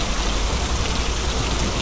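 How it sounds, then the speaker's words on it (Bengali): Heavy hurricane rain pours steadily in Bermuda, a dense, unbroken hiss of drops on surfaces at constant loudness with no voices or breaks. "এটা দেখলাম যে যথেষ্ট পরিমাণে পানি আছে, বৃষ্টি হচ্ছে।"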